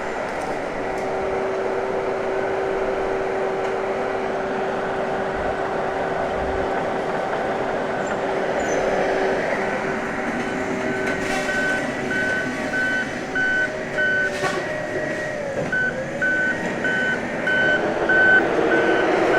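A steady mechanical whir and drone of a big machine fan, with a pulsing electronic beep pattern joining midway, steady and fairly close throughout.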